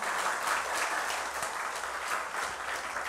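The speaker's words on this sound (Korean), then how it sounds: "박수 쳐야 되죠" An audience claps during a lecture given by the UPF president, a continuous, fairly soft and distant ripple of many hands with a few sharper individual claps standing out.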